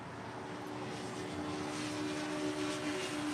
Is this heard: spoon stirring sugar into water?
no